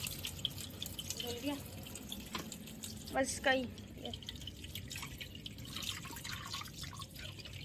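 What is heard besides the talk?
washing a vegetable chopper with water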